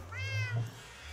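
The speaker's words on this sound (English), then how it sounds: "Also, cat? Are you my cat?" A cat in the Minecraft video game meows close and clearly, one drawn-out rising and falling call over faint game background sound.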